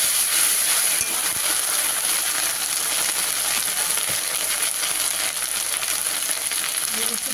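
Ginger paste and crushed whole spices sizzling in hot oil while cooking a Bengali fish-head moong dal: a loud, continuous frying hiss with faint clinks of stirring throughout.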